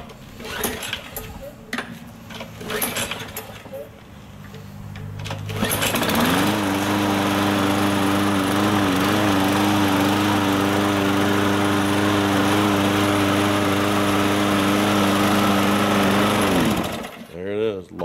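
A Lawn-Boy self-propelled mower with a Briggs & Stratton engine and 20-inch deck starts up after some handling noises and runs at a loud, steady drone nearby. It cuts off near the end, and someone talks before it starts.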